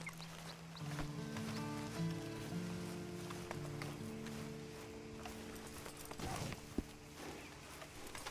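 Horse hooves clop along at a steady walking pace in the video game Red Dead Redemption 2, beneath a sustained musical tone and low ambient noise, with a couple of sharper knocks later on.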